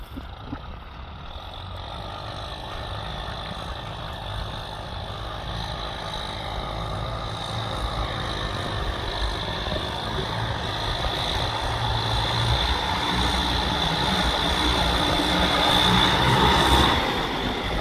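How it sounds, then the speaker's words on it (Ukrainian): Heavy diesel engines of Lovol 1054 tractors ploughing a field drone steadily at close range, a low mechanical rumble that builds slightly toward the end, with faint higher whines over it. "Заходять трактора."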